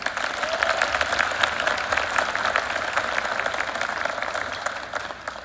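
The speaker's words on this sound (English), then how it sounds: "Let's give them another round of applause." Sustained applause from a crowd at a high school band holiday concert fills the whole stretch, a dense, even clatter of many hands clapping at steady loudness.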